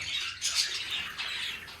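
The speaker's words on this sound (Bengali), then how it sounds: "প্রথমে আমি আপনাদেরকে দেখাচ্ছি একজোড়া সানকুনুর" Sun conure parrots give a quick run of harsh, shrill squawks, close by and loud, repeating several times without a pause.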